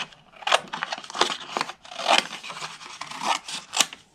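Paper punch slicing white cardstock into a strip, a series of crisp scraping, crunching cuts close up, repeated about six times in an uneven rhythm with no talking.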